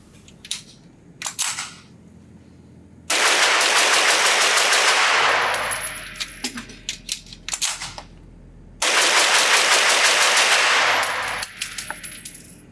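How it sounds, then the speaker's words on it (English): A Ruger PC Carbine fires loud, rapid strings of shots at a range. Scattered single shots lead into a long, dense burst, followed by a pause for a magazine change and a second sustained volley, with a few trailing shots after. "Let me put 2 magazines through this, see how fast I can shoot it, how accurate it is, and how fast can I change this magazine."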